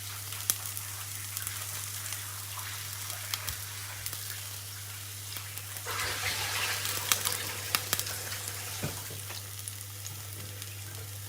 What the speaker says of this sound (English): I'm just washing the cabbage.